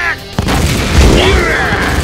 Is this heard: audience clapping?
no